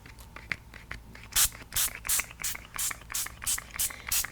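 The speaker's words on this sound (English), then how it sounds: "So we're just going to go ahead and spritz." Mica spray mixture spritzed from a spray bottle in a series of about eight short, sharp hissing bursts at a steady rhythm, close and distinct, after a few faint scratchy handling sounds.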